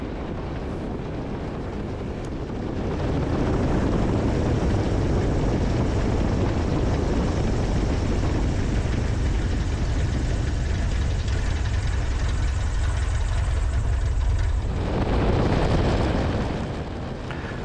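A Carbon Cub light aircraft lands on a frosty runway, its engine and wind roar loud and steady throughout, swelling briefly near the end, heard from inside the cockpit with no talking.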